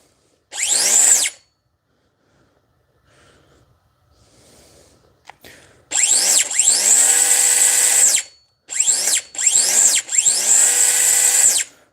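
A Dewalt DCS438 20V 3-inch cutoff tool rated at 20,000 RPM runs in loud, high-pitched whining bursts: one short burst, a pause with faint handling noise, then several longer runs with brief gaps, close by.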